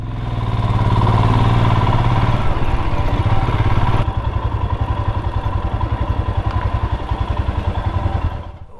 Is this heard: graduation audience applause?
no